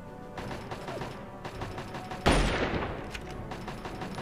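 Automated turret in Fallout 3 opening fire in a burst of rapid gunshots that starts abruptly partway through, loud and close, after a stretch of quieter game ambience.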